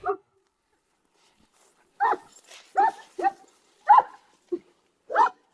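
Several dogs in a garden bark and whimper at a snake in short, separated bursts of yips and barks, close by and fairly loud, with quiet gaps between them.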